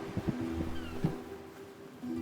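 A cat meows a few times in the Tintin Reporter video game, short tonal cries spread across the clip over a steady musical or ambient background, fairly quiet.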